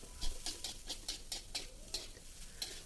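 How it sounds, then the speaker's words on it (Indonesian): A spatula stirs green fried rice in a hot pan, about a dozen evenly spaced scraping strokes over a soft sizzle, close and steady with no talking. "Tinggal diaduk-aduk gini."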